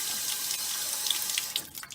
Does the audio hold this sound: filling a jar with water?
yes